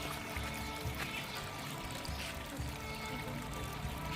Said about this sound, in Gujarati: આજ તો તમે આમાં પાણી ભરી દો કુંડામાં